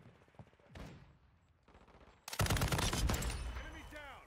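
A raw MG in Modern Warfare 2 fires a loud, sustained burst of rapid shots in the second half, following quieter scattered shots and game noise.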